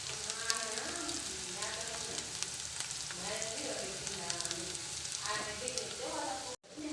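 Potatoes with ginger-garlic paste and turmeric sizzling steadily in a pan, a continuous crackling fry close by with occasional spatters and a voice talking over it.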